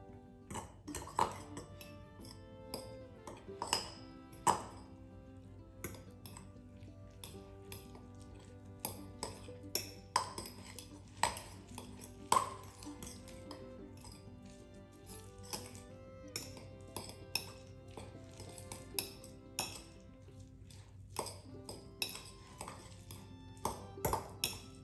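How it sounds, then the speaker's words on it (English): Chaffle batter with egg white is stirred in a bowl, giving repeated light metallic clinks and pings of a utensil against the bowl in an irregular rhythm, close and fairly quiet. "Then add your egg whites, or just 1 egg white, and mix well again."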